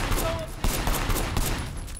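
Sustained gunfire in the video game Sleeping Dogs, a dense fusillade of overlapping shots with loud rumbling bursts over a constant noisy background.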